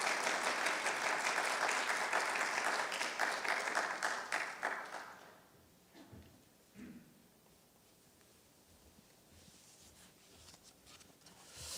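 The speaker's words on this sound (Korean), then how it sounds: "우리 목사님 나오실 때 우리 환영으로 박수로 환영하도록 하겠습니다" A Korean church congregation at a Sunday worship service applauds to welcome the pastor, with dense, steady clapping for about five seconds that fades into quiet room noise and faint rustling.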